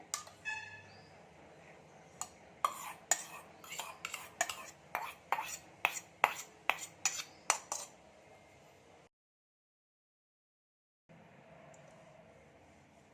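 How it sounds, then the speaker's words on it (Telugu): A spoon stirs yogurt into a radish salad in a bowl, making about a dozen rhythmic scraping clinks at close range, then goes quiet before a faint background returns. "ఇప్పుడు మళ్ళీ ఇవన్నీ కలిసి ఈ పెరుగు ఇందులో కలిసేటట్టు నేను మిక్స్ చేస్తున్నాను"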